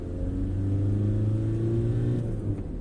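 A 2005 Seat Ibiza 6L with a 64 kW 1.9 SDI diesel engine accelerates in second gear, its drone climbing steadily, then a shift to third brings a sudden drop in pitch, heard from inside the car.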